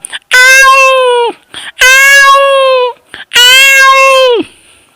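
Three long, whiny meows voiced by a person mimicking a cat, each close and loud, separated by brief breaths.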